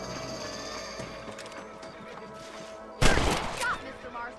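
A single loud gunshot cracks out at a rabbit in Red Dead Redemption, followed by a brief echoing tail, after a stretch of quiet outdoor game ambience with horse sounds.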